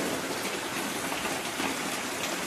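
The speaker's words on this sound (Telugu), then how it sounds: "సౌండ్ అయితే వర్షందేనండి" Steady rain falls outside in a rural farming area, a dense even hiss of drops on surfaces running without pause, fairly close and moderately loud, with no voices over it.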